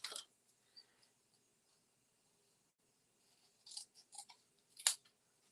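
Scissors cut a strip of paper for a handmade Thanksgiving card, with faint, close snips: one at the start, then a quiet gap, then a short cluster of cuts at the end.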